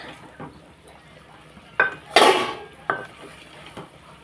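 A spoon scrapes and stirs okra tamarind curry with curry vadiyalu in a metal pot, then a few sharp metallic clanks as the lid is set on, the loudest clatter in the middle.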